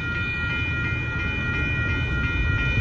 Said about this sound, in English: So there are two trains coming in